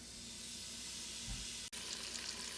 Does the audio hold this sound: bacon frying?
yes